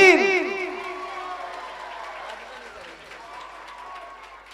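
A crowd at a live bhajan event claps and cheers loudly in a burst that starts with a sharp swell and then slowly fades to a lower, steady din, with voices in the mix.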